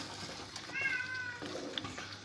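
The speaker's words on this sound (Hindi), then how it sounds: "बिल्ली की आवाज़ आई है आपको" A house cat meows once, a short high rising-then-falling call heard fairly close in a quiet kitchen, with faint low background noise and a small click afterward.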